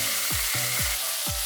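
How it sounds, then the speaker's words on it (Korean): Whole king oyster mushrooms grill in rendered pork belly fat in a pan, a close, steady sizzle and crackle of frying with a few soft thumps as they are moved, no voices. "새송이 버섯을 자르지 않고 통째로 구워보세요."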